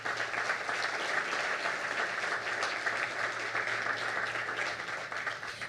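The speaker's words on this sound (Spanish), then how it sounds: "Le damos un aplauso a Carlos Cruz" Sustained applause from a conference audience for Carlos Cruz at a panel on water resilience and sustainable infrastructure, a dense, even wash of clapping that holds steady throughout with no voices over it.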